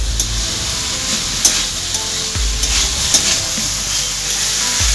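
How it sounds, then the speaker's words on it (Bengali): Potatoes frying in a pan on a gas stove, a loud, continuous close sizzle with a few spatula scrapes and knocks as they are stirred. "এটা একবার নেড়ে নিই আলুটা"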